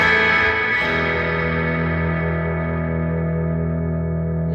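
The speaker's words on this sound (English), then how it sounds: "you can hear the clipping the preamp there" A sustained distorted guitar chord through an old Big Box Deluxe Memory Man rings out, thick and saturated with gritty preamp clipping, slowly decaying with a faint echo trail.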